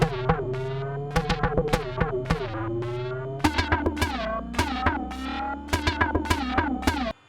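Gamechanger Audio Motor Synth MkII on its Pit Stop preset, buzzing motor-driven tones in rapid staccato bursts with shifting pitch, like revving engines, loud and close with no speech.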